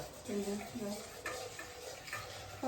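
Ground coconut paste is stirred in a pan for a homemade lunch, with quiet scraping and soft clinks of a spoon against the pan over a faint sizzle, and a brief voice-like murmur early on.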